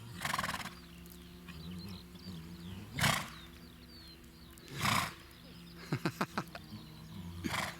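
A horse nickers with low, rumbling calls repeated several times, close by, among bursts of snorting and breathy noise.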